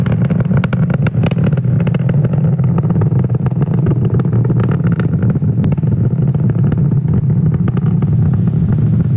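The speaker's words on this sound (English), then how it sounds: "we did throttle the engines down in preparation for max Q, Falcon 9 is supersonic" Falcon 9 rocket engines during ascent, throttled down ahead of max Q as the vehicle goes supersonic: a steady, dense, low rumbling roar that holds loud and unbroken throughout, with no voices.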